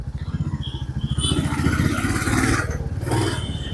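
Motorcycle engines chug in a fast rhythmic putter as the rider moves through busy road traffic on a dark road. Other vehicles pass close by and the sound swells into a louder rushing roar.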